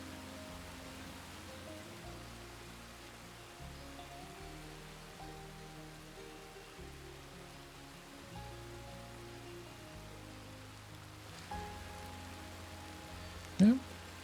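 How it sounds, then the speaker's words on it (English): Rain falls in the open-world game Red Dead Redemption 2, a faint, steady hiss under soft sustained musical tones, with a brief sharp chirp near the end. "Oh, here comes the rain"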